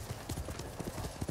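Horse hooves clip-clopping in the video game Ghost of Tsushima, a quick, even run of soft, close hoofbeats at a walking pace, with quiet background sound.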